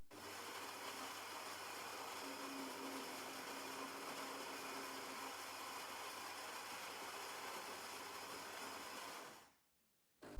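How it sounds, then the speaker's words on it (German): A Philips LatteGo 2200 (EP2231/40) coffee machine with a ceramic disc grinder brews a single cup. It gives a steady, close whirring and pumping drone for about nine seconds, then cuts off abruptly. "Wir wollen jetzt nur eine Tasse beziehen und starten den Bezug."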